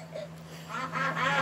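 Cartoon ducks quack in a short run of nasal, overlapping calls in a Peppa Pig episode, close and clear over a steady low hum.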